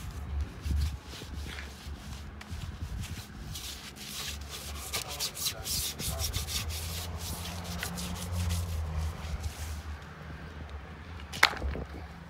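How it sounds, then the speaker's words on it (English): A soft paintbrush scrubs the chrome of a 1976 Cadillac Fleetwood barn find, giving quick repeated bristly rubbing strokes that are close and fairly quiet, with one sharper knock near the end. "Soft paintbrush on the chrome, won't hurt anything."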